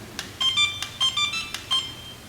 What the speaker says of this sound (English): If you just press it normally, you'll hear different beeps